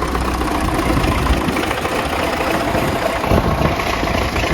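A farm machine's engine runs loudly and close at a steady idle before wheat sowing, with a dense continuous rumble and a brief bump near the end.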